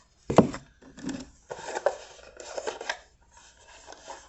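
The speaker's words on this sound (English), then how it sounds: "do a little shuffling" A Tattoo Tarot deck is shuffled by hand, giving soft papery riffles, rubs and quick card slaps in close, uneven bursts with short pauses between them and no talking.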